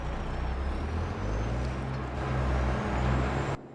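A compost-hauling truck in Farming Simulator 22 drives along with a steady, continuous engine and road rumble, fairly loud and even throughout, then cuts off abruptly near the end; no one talks.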